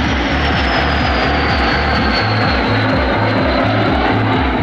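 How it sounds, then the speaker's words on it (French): A formation of propeller aircraft from the Patrouille Groupe Trenchant makes a level pass in column at the Air Legend Airshow 2024. Their engines drone loud and close for the whole pass, with a steady throbbing rumble and no voices. "c'est ce qu'il vous montre avec ce passage à plat en colonne"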